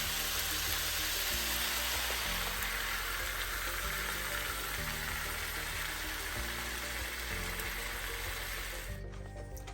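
Pork sizzles in a pan over medium-high heat with chile verde mole, giving a steady, moderately faint frying hiss with soft crackles that carries on without a break before cutting off near the end.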